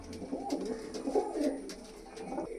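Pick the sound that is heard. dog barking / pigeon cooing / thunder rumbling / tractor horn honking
pigeon cooing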